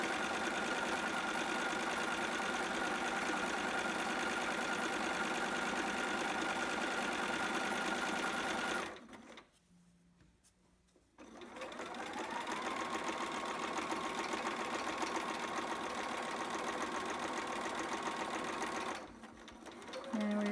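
A sewing machine runs in long steady bursts while stitching a casing of 5/8-inch ribbon for elastic, pausing briefly mid-way before starting up again close and loud.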